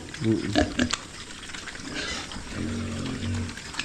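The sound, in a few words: pigs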